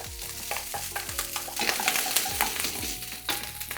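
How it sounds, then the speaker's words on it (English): Rice and egg stir-fry in an oiled pan for Japanese fried rice, with loud close sizzling and repeated scraping and tossing of a wooden spatula, no talk. "Now we're going to add in the rice and start mixing it with the egg."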